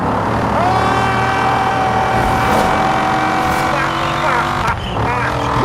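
Car engine in the racing video game Forza Horizon 4, a sustained loud synthesized tone that shifts pitch as the car accelerates and changes gear, with tire squeal near the end.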